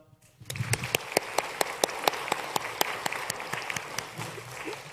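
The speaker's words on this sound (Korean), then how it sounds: "우리 다음 세대 크게 한 번 더 박수 치겠습니다" A church congregation applauds at an intergenerational worship service, a steady burst of dense clapping that starts abruptly and carries on for several seconds with a few sharper, louder claps standing out.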